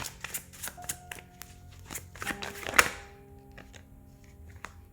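Tarot cards shuffled and drawn by hand for a reading, giving a run of soft papery flicks and taps with one sharper slap near the middle, close and fairly quiet with no talking.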